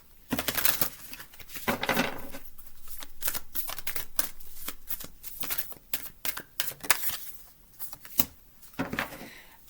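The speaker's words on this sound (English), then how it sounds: "Sometimes shuffling helps." Cards being shuffled up close in repeated riffling bursts, with crisp flutters and short pauses between each shuffle.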